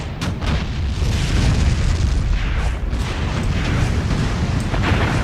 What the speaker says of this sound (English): so my guns are firing now, which is good